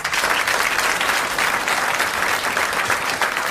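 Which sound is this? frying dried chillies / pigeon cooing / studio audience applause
studio audience applause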